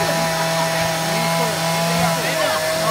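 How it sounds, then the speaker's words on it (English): A power saw carves a block of wood at an outdoor boysenberry festival at Knott's Berry Farm, a steady loud engine whine running throughout with shifting pitch as the blade cuts, crowd noise and faint voices underneath. "Look at this guy's literally sawing a piece of wood. He's carving."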